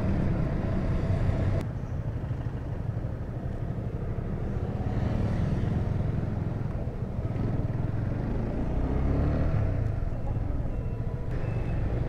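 Busy street traffic with cars and trucks passing, a continuous low rumble and road noise that stays steady throughout, with faint voices now and then.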